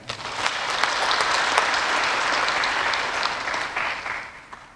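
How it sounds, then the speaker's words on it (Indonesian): An audience at an open university senate meeting at ITSK Dr. Soepraoen Malang gives sustained applause, a thick wash of many hands clapping together, steady and loud before it tapers off near the end. "Beri tepuk tangan lagi."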